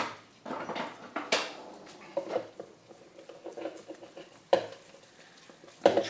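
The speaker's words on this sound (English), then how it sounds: "And let's go ahead and give that a stir." Ricotta, parmesan and olive oil are stirred together in a bowl, producing soft, irregular wet scraping and squelching with a few louder knocks of the utensil against the side.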